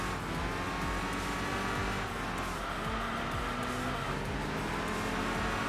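A Subaru Impreza WRX STI (GD) racing in the Enthusia Professional Racing game, its engine droning loud and continuous with rising and falling revs through corners.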